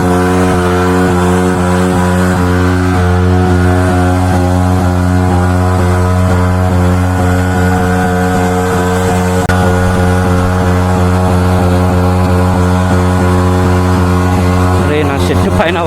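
A Yamaha R15 V3 motorcycle does a burnout, its engine held at high revs in a loud, steady droning whine that barely changes pitch for the whole stretch before a brief disturbance at the very end.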